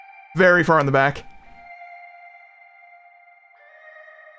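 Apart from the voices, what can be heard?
gliding synth in background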